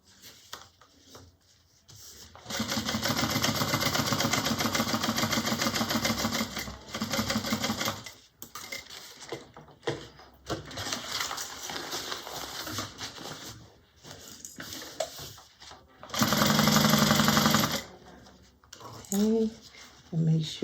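A sewing machine stitches a bag in several bursts of rapid, even clatter, pausing between runs, with a quiet voice talking in the gaps.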